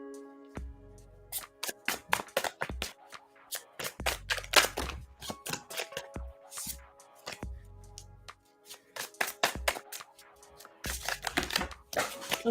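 Tarot cards being shuffled by hand, repeated crisp riffling bursts and slaps in an irregular rhythm, close and fairly loud, with a few short pauses between rounds.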